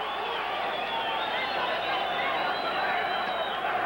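Steady, dense crowd roar fills a boxing arena during a fight between Luisito Espinosa and Juan Carlos Ramirez, a continuous wash of excited voices at even loudness throughout.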